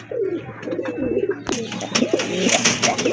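Several Black Racer pigeons coo close by in low, throaty bursts, with soft rustling and scattered brighter chirps and scrapes around them.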